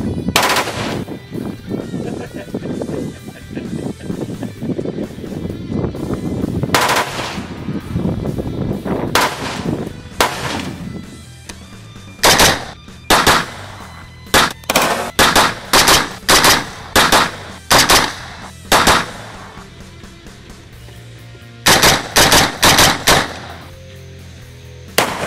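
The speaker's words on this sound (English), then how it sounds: "People shooting next to you at a range will be glad that you have a sound redirect because this brake is loud." Loud, sharp gunshots through a Kineti-Tech muzzle brake fitted with a sound redirect sleeve, first in dense rapid strings, then as crisp spaced single and paired shots ringing out one after another.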